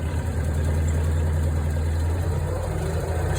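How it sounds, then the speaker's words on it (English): A car engine runs steadily at idle with a strong low rumble and constant vibration, loud and close, with no clear rise in pitch and no voices. "If I rev it up a bit,"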